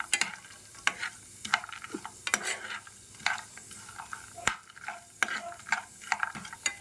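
Semiya kesari halwa is stirred in a pan with a spoon, giving irregular scraping strokes and clacks over a soft frying sizzle, close up and alone without speech.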